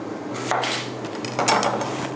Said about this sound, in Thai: สำหรับมะเขือเปราะนะคะ เราจะต้องนำมาหั่นนะคะ หั่นขั้วทิ้งก่อนค่ะ จากนั้นหั่นสีนะคะ